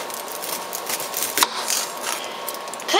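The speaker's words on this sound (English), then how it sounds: "Now, what I'm going to do is start off by cutting this onion." A knife cutting through an onion on a board, a few soft crisp chops at uneven intervals, close and fairly quiet against light background hiss.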